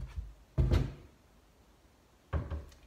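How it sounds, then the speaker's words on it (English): An interior door is lifted off its hinges, giving two solid wooden knocks and scrapes separated by a quiet pause, close by. "grab one end, pull it off the hinges"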